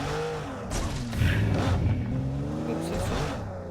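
A car engine in PUBG Mobile revs up and down in wavering, rising and falling sweeps, moderately loud and continuous, with a brief surge in the middle.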